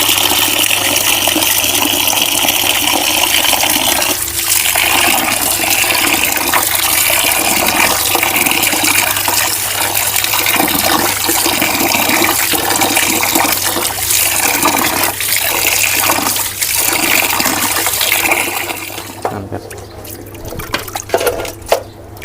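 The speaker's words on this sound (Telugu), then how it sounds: "ఒక 2-3 సార్లు అయితే మనం బాగా నీళ్ళు అయితే వేసుకొని వాష్ అయితే చేసుకోవాలా" Water splashes and rushes steadily as raw mutton pieces are washed for a dry mutton dish, a loud continuous flow that eases off near the end. No voices are present.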